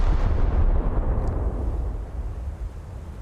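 Scharnhorst battleship main guns firing in a naval game, a loud deep booming blast with a rumbling low-end roll that slowly decays over a few seconds, no voices.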